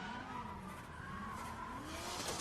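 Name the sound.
car drifting with tire skid at Red Bull Car Park Drift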